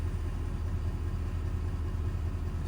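A 6.7 high-output diesel engine idles on a four-wheel camper truck setup, giving a steady, loud, low rumble that stays even throughout, with no voices.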